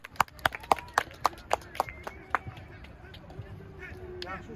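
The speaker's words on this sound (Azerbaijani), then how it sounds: "Özümüzü alqışlayaq." Youth under-11 football team clapping for themselves after a league match, a short burst of sharp, rhythmic hand claps in near unison that slows and fades into quiet background murmur.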